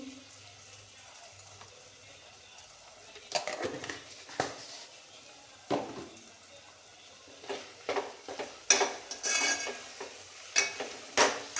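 A spoon knocks and scrapes around a metal pot of sago with sugar in uneven strokes, growing busier and louder over time, with a quiet kitchen hum underneath.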